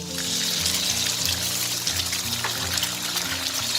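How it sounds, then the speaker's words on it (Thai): Beaten eggs going into a hot pan with leftover frying oil while making Thai turnip cake, heard as a loud, steady hiss and sizzle throughout, with sustained tonal background sounds underneath. "แล้วเราก็ใส่ไข่ค่ะลงไปเลย"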